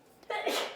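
A single sneeze in a home kitchen, a quick intake followed by a sharp burst, close and brief.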